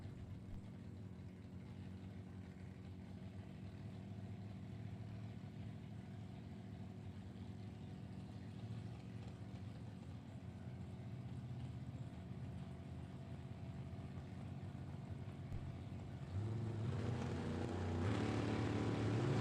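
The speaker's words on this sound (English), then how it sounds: "Both drivers gunning the throttle and they're away." Two drag racing cars at a World Super Pro Challenge event, a continuous engine roar that builds steadily and swells loudly near the end as the drivers hit the throttle at the start line.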